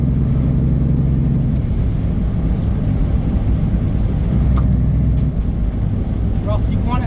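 An old Peterbilt truck out on a drive gives a deep, loud, continuous engine rumble that holds steady from start to finish.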